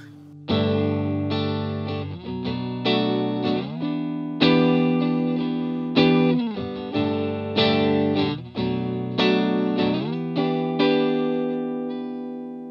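An RJ Guitars Skycaster electric guitar with upgraded single-coil pickups plays a run of strummed, effects-laden chords through distortion and chorus, each chord ringing and fading, with no voices.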